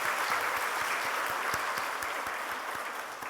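A church congregation gives sustained applause in praise during a Sunday service, a dense even wash of clapping with a few sharper individual claps standing out near the microphone.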